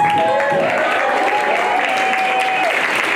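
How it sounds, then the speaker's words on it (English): Audience at a public magic show in Hawaii claps steadily and loudly throughout, a continuous wash of applause with a tonal whistle or voice riding faintly on top. "give them some claps"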